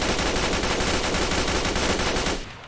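Vault-Tec MPL gun from a Fallout 4 mod firing on full auto, a loud, rapid, unbroken burst of shots lasting over two seconds before cutting off abruptly.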